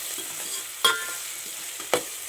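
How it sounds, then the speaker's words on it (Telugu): Ginger garlic paste fries in a pan for paneer biryani, a soft sizzle broken by two sharp spoon scrapes or stirring clanks, close and quiet, without speech. "ఇది అల్లం వెల్లుల్లి పేస్ట్ అంతా పచ్చివాసన పోయేంత వరకు వేయించుకోవాలి"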